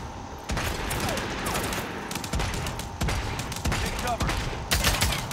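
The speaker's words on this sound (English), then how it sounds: "They're shooting at each other." Rapid volleys of gunfire crackle through a Realm Royale match, repeated bursts of shots overlapping in a steady barrage with a few louder clusters.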